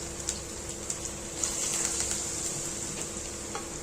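Fritters made from bitter gourd leaves fry in hot oil with a steady, fairly quiet high sizzle, dotted with small pops and crackles.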